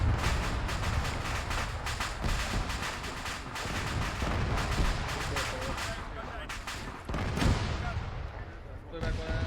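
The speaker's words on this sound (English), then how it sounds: "Rocket, rocket. Ah, stuff exploding." Rockets and other explosions go off in a video game as a dense, continuous barrage of booming blasts and cracks. Talk runs over the noise.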